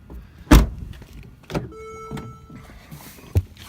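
Power sunroof on a 2013 Mercedes GL450 opening from inside the cabin: a sharp click, then a short electric motor whine with a thin tonal hum, and a final soft clunk as it stops.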